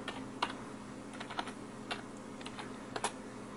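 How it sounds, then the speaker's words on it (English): Keystrokes on a computer keyboard entering a Whois command in Windows, a handful of separate clicks and short bursts spread across a quiet room with a low steady hum. "you can just type in Whois, space, and then the name of your website"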